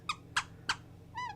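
Plush toy paws squeezed during a livestream, giving three short bright squeaks in quick succession and then a longer, higher wavering squeak, fairly close over a low steady hum.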